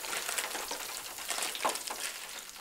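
Hush puppies frying in hot oil, giving a steady crackling sizzle with scattered pops, close by and without any voices.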